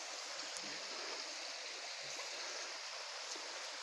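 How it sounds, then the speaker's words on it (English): Waterfall on a hiking trail at Peoples Mountain, a constant broadband rushing of water, fairly faint and steady throughout, with no talk over it. "that's a nice picture of the waterfall."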